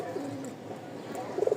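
A pair of Shua Chandan pigeons gives low, murmuring coos, steady and fairly close, with a slightly louder burst of cooing at the end.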